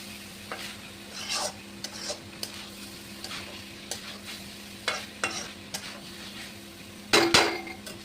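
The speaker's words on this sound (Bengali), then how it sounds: "খুব ভালো করে কষিয়ে নিয়েছি কিমা আর আলু।" Chicken keema and fried potatoes stir-fried in a pan, a soft steady sizzle broken by repeated scraping strokes of a spatula against metal, with one louder clatter near the end.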